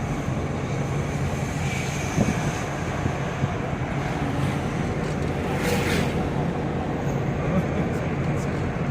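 A vehicle driven by Umesh rolls along with a steady low rumble and road noise, with a few faint bumps and rattles and a brief hissing swell midway.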